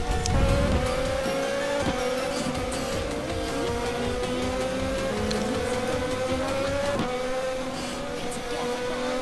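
Race cars in a racing video game on a long start-finish straightaway at an Indonesian circuit, several engines whining together in a dense continuous roar with pitch climbing and dropping at gear shifts, no talk.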